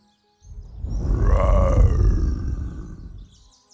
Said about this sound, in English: I wonder who could be making such a loud roar.